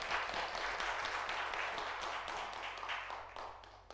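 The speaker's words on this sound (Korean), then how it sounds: "박수 한번 부탁드리겠습니다." A church congregation at a Sunday worship service gives a round of applause, the clapping fairly faint and distant yet sustained, tapering off slightly toward the end.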